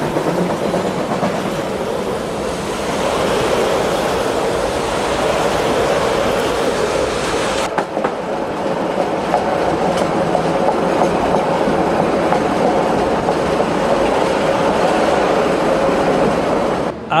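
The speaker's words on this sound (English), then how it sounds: "As the train blasts out of the tunnel at Heathcote, the smoke-belching locomotive is a vivid reminder of days gone by" A steam locomotive train bursts out of a tunnel at Heathcote, loud and close, a dense rumbling roar with rhythmic rail clatter that drops abruptly partway through, then continues as a steady clattering rush.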